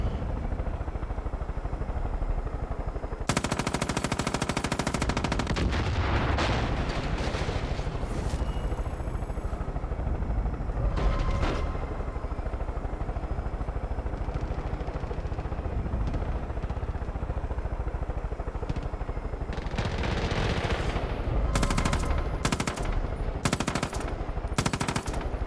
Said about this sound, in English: Are you manning twin 50 caliber machine guns?